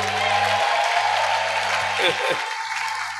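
A church congregation claps together in broad, steady applause that fills the room, with a few voices rising faintly beneath it.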